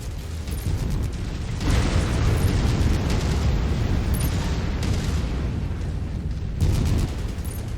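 A video-game target blows up in a loud, close, rumbling explosion with sustained roaring debris, swelling twice more as further blasts hit. No talk is heard.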